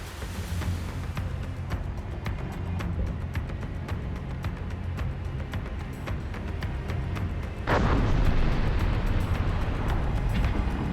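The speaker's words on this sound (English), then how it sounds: "Incoming enemy artillery." Enemy artillery shells landing in an armored warfare real-time strategy game, heard as a continuous rumbling barrage of distant blasts that swells louder with a heavy impact partway through.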